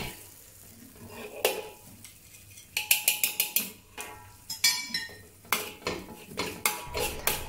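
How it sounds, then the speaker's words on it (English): A wok spatula mashes preserved bean curd in a sizzling wok, producing rapid rhythmic metallic clanks and scrapes in clustered bursts over a low background sizzle, close and fairly loud. "Now use the wok spatula to mash the preserved bean curd until it turns into a paste."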